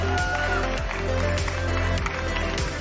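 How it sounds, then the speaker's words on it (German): Applause from a live church-show audience, dense steady clapping with some crowd noise and cheering mixed in, filling the room continuously from start to finish. "Lass uns mal einen Applaus geben für die 2"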